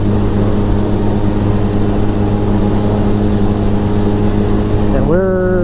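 A 2012 Polaris RZR 800 S side-by-side engine drones loud and steady as it climbs uphill near 6,200 RPM, the pitch rising sharply near the end.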